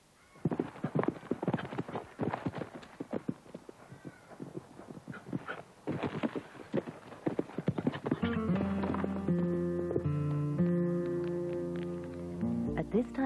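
Horses ridden toward a jump by girls in an Australian outdoor setting, with rhythmic hoofbeats and clip-clop on the ground over the first eight seconds, followed by steadier tonal noise toward the end.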